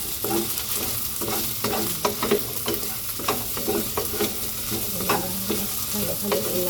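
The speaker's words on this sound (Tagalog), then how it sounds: "Tapos isunod ko yung carrots. Gisa natin." Carrots being sautéed for pancit canton fill a pan with a steady sizzle, punctuated by frequent rhythmic scraping and stirring clatter of a utensil against the pan, fairly close and continuous.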